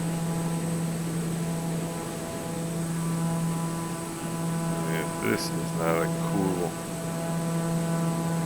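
A steady turboprop drone with a constant mechanical hum fills the cockpit of a TBM930 in Microsoft Flight Simulator, loud and unchanging, while someone talks briefly over it.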